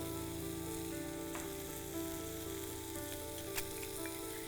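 Green chillies and coriander powder frying in oil for semiya pulao make a steady, even sizzle close by, with a few faint ticks of a spoon and a low hum underneath, and no voices.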